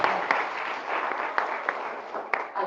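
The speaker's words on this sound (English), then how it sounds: "Another round of applause for all awardees," A round of applause for award recipients at an annual awards ceremony, steady dense clapping from an audience filling the whole stretch, with a few sharper individual claps standing out.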